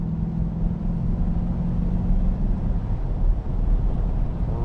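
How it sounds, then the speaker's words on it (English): A European-spec 1985 Mercedes-Benz 500SL with a 5-liter V8 pulls steadily along a farm road, a deep continuous engine drone heard from inside the car, no talking. "That 5-liter V8 again."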